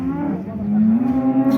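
A cow lows in one long, loud, sustained moo at the Karakol livestock market in Kyrgyzstan, close by with faint market noise behind.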